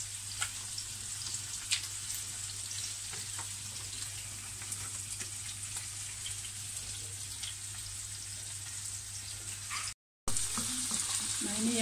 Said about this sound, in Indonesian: diaduk sedikit biar nggak biar nggak lengket dan biar nggak gosong sambil diaduk